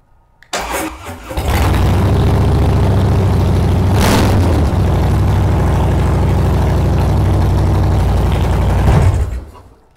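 A 2013 Harley-Davidson Softail Breakout with a stage one setup and Vance & Hines Short Shots exhaust cranks over, fires and settles into a loud, steady, rumbling idle up close, with a brief blip before cutting off at the end.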